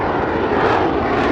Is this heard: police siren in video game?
no